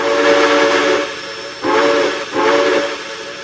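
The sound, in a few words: steam locomotive whistle of a J3 Hudson in the video game Trainz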